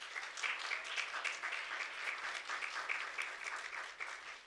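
Audience applause fills an awards ceremony honouring women in media, a steady, dense clapping from a sizable crowd that holds at even loudness throughout without any voices over it.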